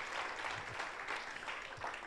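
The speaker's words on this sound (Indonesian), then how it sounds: "kasih tepuk tangan dulu buat Tuhan Yesus" A church congregation applauding during a worship service, a dense wash of hand claps from many people, fairly distant and sustained over the short stretch.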